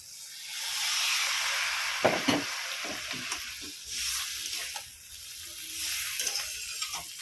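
Water poured into a hot pan of fried rice and mung dal for a Bengali murighanta sizzles and hisses steadily throughout, with a few clinks and stirring clatters along the way.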